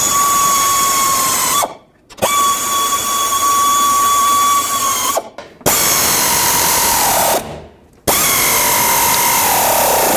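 Power tool running down the front strut nuts on a 2001-07 Toyota Sequoia, three loud sustained whirring bursts separated by short pauses, with the pitch sagging as each nut tightens.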